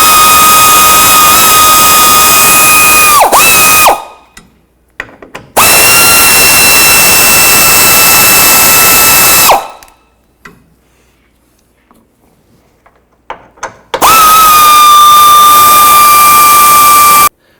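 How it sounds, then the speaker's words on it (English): A power tool spinning a 10mm socket to remove side step screws on a 2007-2017 Jeep Wrangler, three loud close whirring bursts with gaps of silence and small clicks between them. "Using a 10mm socket, go ahead and remove these screws."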